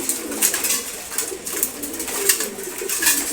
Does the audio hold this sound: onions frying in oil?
no